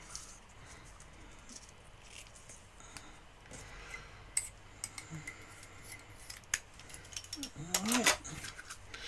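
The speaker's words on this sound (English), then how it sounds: "Trim off the ends." Scissors trim the paper ends of a tag for a handmade birthday card. Faint, scattered snips sound close by over quiet background, ending in a louder cluster of cuts.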